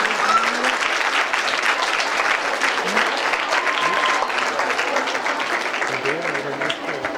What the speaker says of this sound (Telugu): అందరూ చప్పట్లతో సంతోషాన్ని వ్యక్తం చేయాలి